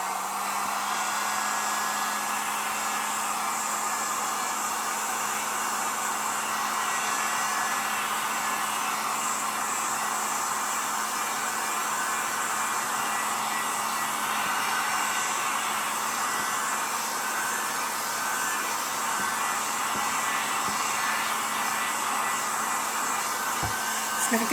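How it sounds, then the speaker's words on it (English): A heat gun blows steadily and loudly, drying chalk paint on a canvas with an unbroken whooshing hum from start to end. "I take the heat gun and I want to"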